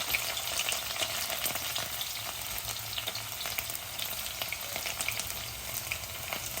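Dried red chilli and crushed garlic cloves sizzle steadily in hot oil, a continuous crackling fry with light stirring running throughout, close and fairly loud with no talking.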